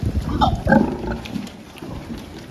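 A sow grunts during vaccination on a pig farm, giving a few loud, close, rough grunts in the first second, then quieter snuffling and shuffling that fade toward the end.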